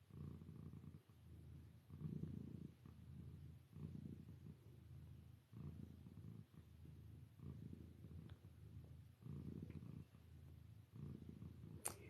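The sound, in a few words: domestic cat purring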